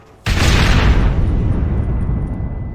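Planted charges blow open a gate in Red Dead Redemption: a sudden loud, close explosion after brief quiet, followed by a long rumbling roar and debris that slowly fades.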